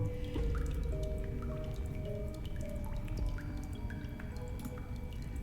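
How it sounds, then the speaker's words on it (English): Water running through a pipe in the video game Darkside Detective, a steady low gurgling flow with scattered drips, continuous and fairly quiet throughout. "Plenty of water running through that pipe."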